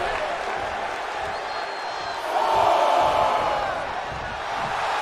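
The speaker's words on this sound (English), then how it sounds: "Nikita Lyons showing off for the crowd, and they are eating it up" A wrestling arena crowd in the video game WWE 2K24 murmurs steadily, then swells into a brief, louder wave of cheering before settling back into a distant roar.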